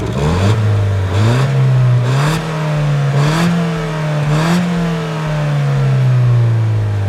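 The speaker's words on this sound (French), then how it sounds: "D'ailleurs, je vous mets un cold start tout de suite." Peugeot 208 GTI cold-starting and idling, a steady low exhaust drone that rises briefly in a few rhythmic blips and settles again, close and loud with no talking.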